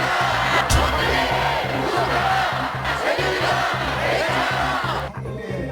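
A huge crowd at a candlelight protest in Seoul's Gwanghwamun Square shouts in unison, loud rhythmic chanting repeating in regular bursts that swell and fade over continuous crowd noise.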